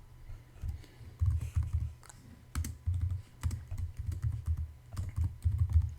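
Steady bursts of computer keyboard typing while JavaScript code is written, close and fairly quiet, with irregular clusters of key clicks and brief pauses between them.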